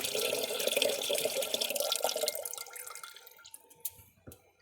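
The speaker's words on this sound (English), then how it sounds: "let me just hit this pump and then just turn the pump on" Water from an antique hand pump fed by a 12-gallon fresh water supply rushes steadily out of the faucet for a few seconds, then tapers off into scattered drips splashing below.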